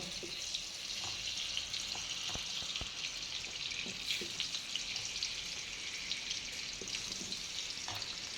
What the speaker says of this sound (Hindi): अब आलू को कर लिया जाएगा फ्राई, जो हमने काट कर रखा हुआ था।